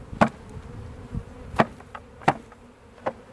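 Honeybees buzz around a hive box left by a colony that failed to raise a new queen after swarming, broken by a few sharp knocks or taps over a low hum.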